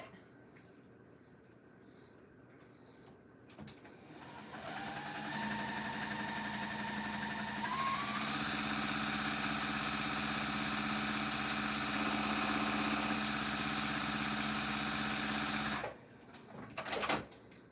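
A sewing machine stitches the edges of an apron in one long steady run, its motor rising to a fast even whir and holding for about ten seconds before stopping, close and alone.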